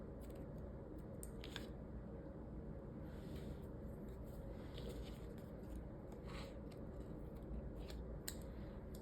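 Scissors cut off the loose ends of a tie, producing a few faint, quick snips over a low background hum.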